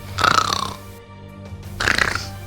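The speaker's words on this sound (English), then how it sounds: "That sounds like snoring." Two loud, raspy snore-like breaths, one at the start and one near the end, separated by a quieter gap. Close and alone, with no talking.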